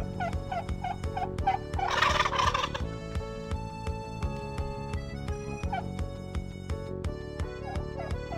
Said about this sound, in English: I have my Uncle Jed, who's a professional turkey wrangler, bringing a few turkeys for Michael to choose from.